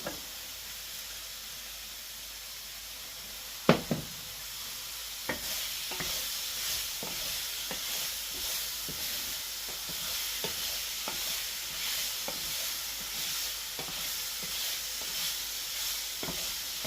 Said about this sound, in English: we just want to get these tomatoes lightly softened